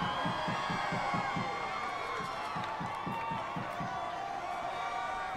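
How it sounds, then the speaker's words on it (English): High school students chanting a cheer in the stands at a football game, a rhythmic series of clapped or stomped beats with shouting voices, steady and somewhat distant crowd noise. "There's some of Joey's students giving the cheer."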